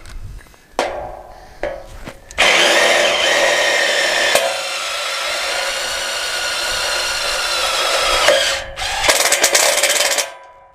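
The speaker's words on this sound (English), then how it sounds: "I'm only just putting sort of a minimum amount of screws in at this stage" A power drill drives tech screws into a steel house frame, a loud sustained whirring run of several seconds after a few short bursts, ending with brief quick pulses.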